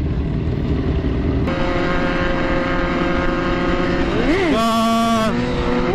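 Motorcycle engines rev loudly and continuously on a night ride, a steady drone with a sharp rising rev and pitch swoop near the end.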